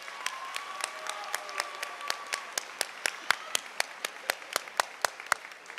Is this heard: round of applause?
yes